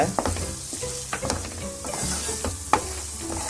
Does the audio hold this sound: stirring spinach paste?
yes